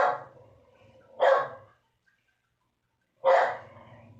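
A dog barks three times, fairly close, with short pauses between the loud woofs and no talk over them.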